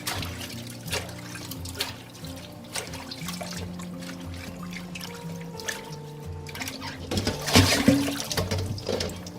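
Fresh kale and other vegetables are washed in water, with a continuous trickling and splashing that swells into a louder rush of water near the end.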